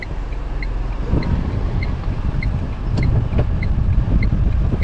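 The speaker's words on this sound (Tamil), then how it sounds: "சிட்டி மோட் சவுண்ட் வருதுங்களா" A Tata Punch Adventure AMT car driving in city mode, heard as a steady, fairly loud road and engine rumble from inside the cabin with a faint repeating high tick and a couple of brief clicks; no one speaks.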